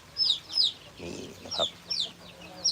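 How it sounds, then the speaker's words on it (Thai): Week-old native chicks peep in high, repeated bursts, close and clear, with a few low clucks from the flock and a brief murmur of a voice in the middle. "ไก่นี้อายุได้ประมาณ หนึ่งสัปดาห์นะครับ"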